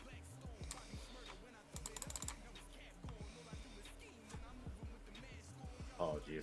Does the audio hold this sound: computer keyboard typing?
yes